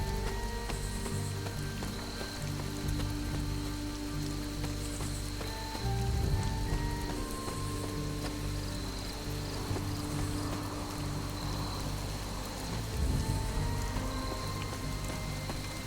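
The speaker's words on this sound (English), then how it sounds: "Ooh, it's raining." Steady rain in the video game Midnight Suns patters across a surface, with a constant hiss over a low background hum and some faint clicks, continuing unbroken throughout.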